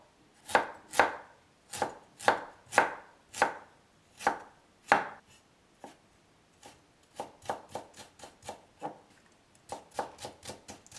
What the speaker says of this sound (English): Thinly sliced. Ginger also.